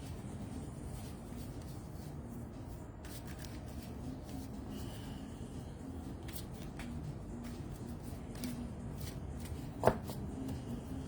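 Quiet, crisp riffling and soft flicks of playing cards being shuffled, with one sharp tap near the end.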